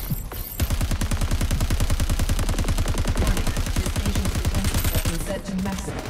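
Rapid automatic gunfire from enemies in the video game Crackdown 3: a dense, steady stream of sharp shots that stays loud and continuous for several seconds, with no talking over it.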